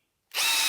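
Dewalt single-speed cordless screwdriver kicking on abruptly after silence, a loud close steady motor whine that holds at full speed.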